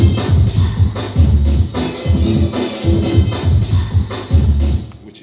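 A hip hop record sped up on Technics 1210 turntables into a fast jungle break, dense rapid drum hits over a thick bass line, loud and continuous, fading out at the end.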